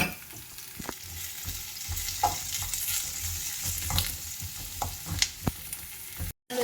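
Onion and garlic frying with mustard seeds and a little salt, stirred with a ladle: a steady crackling sizzle with occasional scraping knocks of the ladle, close and fairly quiet, ending with a brief cut to silence.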